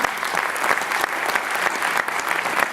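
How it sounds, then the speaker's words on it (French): An audience at an innovation awards ceremony in the Loire claps loudly and steadily, a dense wash of applause from many hands throughout. "Et on applaudit bien sûr très fort"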